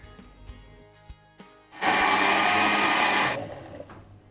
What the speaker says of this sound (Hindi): ठंडा होने के बाद अब हम इसको ग्राइंड करेंगे